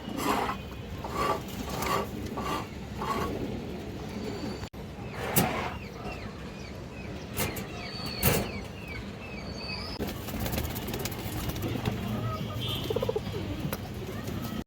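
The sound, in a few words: pigeons cooing, Lal Chulli breed pair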